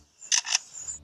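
Lyrebird mimicking a camera shutter: two quick close mechanical clicks in succession, crisp and bright, followed by a faint high trailing tone.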